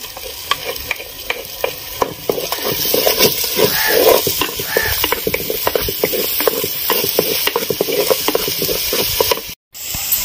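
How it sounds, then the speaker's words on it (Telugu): Ginger and onion paste fries in hot oil in a pan, a steady sizzle with frequent stirring scrapes throughout, fairly close and continuous, with a brief dropout near the end. "వేగిన తర్వాత మనం ఇది కూడా వేసుకొని బాగా బ్రౌన్ షేడ్ వచ్చేంత వరకు వేయించుకోవాలి"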